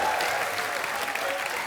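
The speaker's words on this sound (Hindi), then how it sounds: "जोरदार तालियां।" A studio audience at The Kapil Sharma Show comedy taping breaks into a short burst of dense, loud applause.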